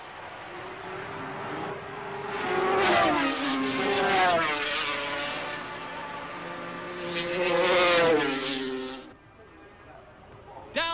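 Kawasaki racing motorcycle engines scream past on a race circuit, with loud, rising and falling revs over gear changes as the bikes approach and pass, then fade away.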